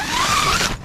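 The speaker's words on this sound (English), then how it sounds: "So this unzips very easy. The zippers are smooth, all one-handed." A single smooth, quick zip rips open on a hot tent door, loud and close, a continuous rasp lasting under a second before cutting off.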